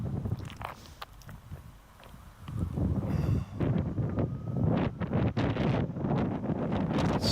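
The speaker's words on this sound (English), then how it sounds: "today is super windy and it's just got that chilly bite to the wind." Strong, chilly wind buffets the microphone outdoors among stones, rumbling gusts that are quieter at first and then swell and roar loudly for the rest of the clip.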